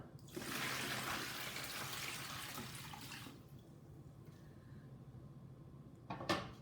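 Water is poured into a container to brine a turkey, a soft close splashing rush lasting a few seconds, then quiet with a brief clatter near the end.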